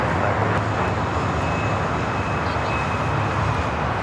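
A jet airliner is taking off from runway 25 right at LAX, heard as a steady, loud, broadband engine roar with a faint high whine running through it, continuous for the whole stretch and with no talking.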